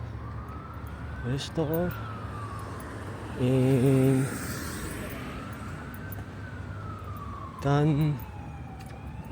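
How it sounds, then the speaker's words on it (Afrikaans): An emergency vehicle siren sweeps up and down steadily as it passes along a street in Avondale, USA, loud and continuous over traffic rumble, while someone talks in short bursts over it. "daai sirene. Kom hier verby."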